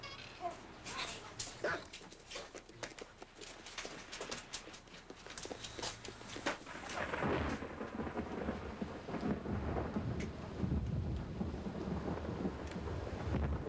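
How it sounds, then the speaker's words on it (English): A long rumble of thunder rolls over steady rain, with a dog whimpering and barking softly in the foreground. "Now it's gonna rain."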